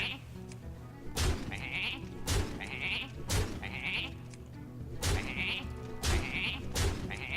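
Sheep bleat repeatedly in short, loud bursts, roughly one every second, over a steady game-like background hum.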